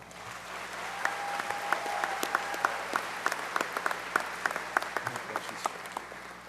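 Audience members at a school academy awards evening applaud their students, a sustained round of crowd clapping with sharper individual claps standing out near the front, steady throughout.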